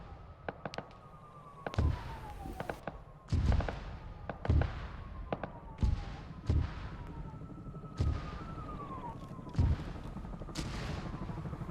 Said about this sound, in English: I am seeing a lot of explosions off the tank itself,